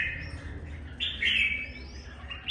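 Red-whiskered bulbul, a young wild-caught bird, singing nearby in short bright whistled phrases over a low background hum, with no talk.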